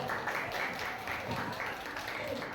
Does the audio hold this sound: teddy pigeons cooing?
no